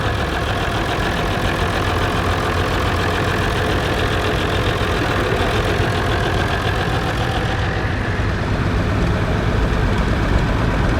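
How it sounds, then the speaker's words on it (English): An Allis Chalmers WD-45 antique tractor idles steadily at a steam show, a continuous low, knocking engine drone that holds close and even throughout with no one talking. "Another Allis Chalmers WD-45, owned by William Bookable family from Glenrock."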